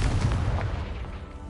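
A Confringo fire spell bursts in Hogwarts Legacy, a heavy booming blast with a deep low rumble that fades over about a second, no voices.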